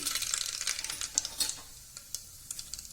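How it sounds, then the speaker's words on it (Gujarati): Small mustard seeds hit hot oil with a burst of bright crackling and popping that fades into scattered ticks over a few seconds. "હવે આપણે એમાં રાઈ નાખશું નાની ચમચી,"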